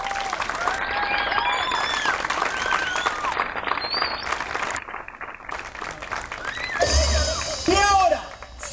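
Audience applause at a sports court opening, sustained clapping from a crowd with voices calling over it, then a louder burst of cheering and amplified speech near the end.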